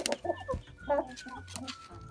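A young hen clucks in a Ukrainian backyard coop around laying her first egg, giving a quick series of short, close clucks and throaty chirps with other fowl faintly nearby.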